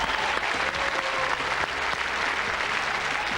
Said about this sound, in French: Camilou, ces applaudissements pour vous